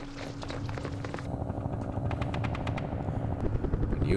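Helicopters in the war strategy game Campaign Series Middle East, a continuous whirring rotor drone that builds slightly, with scattered sharp clicks and bursts mixed in, no voices.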